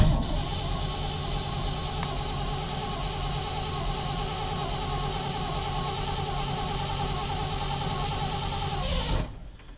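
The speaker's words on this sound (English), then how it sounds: "Alright, let's get this thing cranking, see if we can get oil pressure up" A 1959 Chevrolet Bel Air engine turns over with a steady, droning mechanical hum for about nine seconds, then cuts off abruptly. The sound is close and loud, with no talking.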